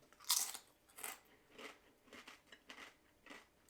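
Hilo Life low carb tortilla chips being bitten and chewed up close, a sharp loud first crunch followed by a series of softer, rhythmic chewing crunches with no talking.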